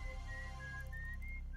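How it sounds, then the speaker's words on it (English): A person whistles a short, clear melody straight into a microphone: a few sustained notes that slide in pitch over a low hum, alone and without speech. "Someone is just whistling into their mic."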